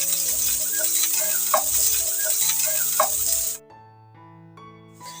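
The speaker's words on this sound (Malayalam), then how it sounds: "ഈ സവാള ഒന്ന് ഇളക്കി കൊടുക്കാം" Onions fry in a pan with a loud, steady sizzle while being stirred, the spoon scraping in a few rhythmic strokes, before the hiss drops away abruptly, leaving quiet background music.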